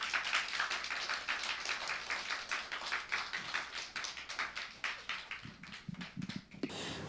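Congregation at a Korean church revival meeting claps in a fairly rhythmic, close, sharp pattern that loosens and thins toward the end, with a brief voice near the close.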